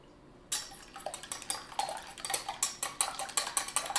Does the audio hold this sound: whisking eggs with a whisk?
yes